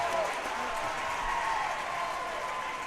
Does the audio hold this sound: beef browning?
no